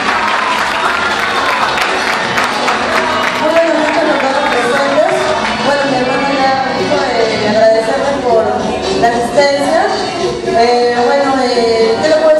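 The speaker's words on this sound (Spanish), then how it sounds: "Los aplausos para ella, por favor, que se escuche." Sustained audience applause from a crowd at a fiftieth-anniversary celebration, loud and steady throughout with cheering and voices mixed in.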